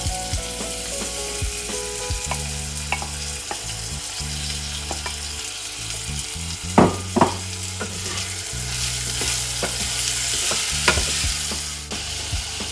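Peas sizzle in oil in a pan, a steady crackling fry with occasional stirring scrapes and clinks and a low hum underneath, close and continuous.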